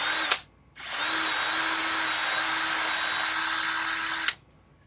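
Power trimmer cutting freshly cut 300 Blackout brass cases, a short burst then a sustained high whine for about three seconds that stops abruptly, close and loud with no talk.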